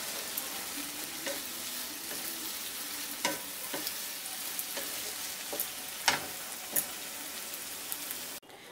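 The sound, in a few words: stirring banana stem and prawn dish in a pan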